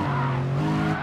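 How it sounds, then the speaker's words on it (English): Car tyres squeal in Gran Turismo Sport, a loud sustained tonal screech held for about a second over engine noise, with no talking. "Let's see when my tires start squealing."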